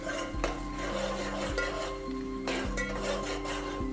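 Turmeric being stirred into cooked tomatoes in a metal pan while greens (bathua) are prepared, giving steady scraping and clinking of a spoon against the pan over a continuous tonal background hum.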